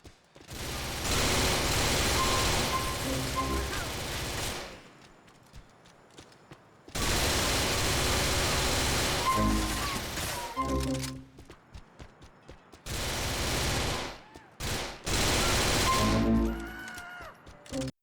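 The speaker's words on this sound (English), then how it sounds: "when you fired that golden SMG, it just felt powerful" A gold SMG in GTA 4 fires in long rapid bursts, a loud dense stream of shots in three sustained volleys separated by brief pauses, with no voices.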